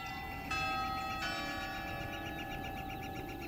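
A bell rings out with two distinct strikes, each leaving a long, shimmering metallic ring that fades slowly; fairly faint, heard from some distance.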